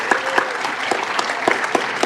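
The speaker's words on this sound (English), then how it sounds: "let's give them another round of applause." An audience at a university thesis competition breaks into steady applause, a dense wash of clapping with sharper individual claps standing out, sustained and fairly loud with no talking over it.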